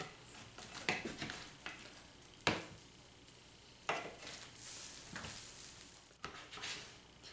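Roasted kielbasa and cabbage are flipped on a sheet pan, with several sharp metallic scrapes and clinks spaced irregularly over faint sizzling, fairly quiet and close.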